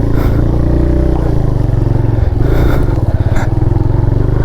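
A 125cc motorcycle engine labouring loudly and continuously on a rough road, close up, with steady buzzing drone, clatter and scraping.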